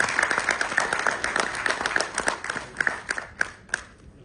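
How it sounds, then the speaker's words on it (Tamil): A hall crowd claps in welcome at a music video launch as the producer and his wife step in, a dense patter of hands that thins toward the end into a few scattered claps. "ஒரு பலத்த கைத்தட்டல் ladies and gentlemen."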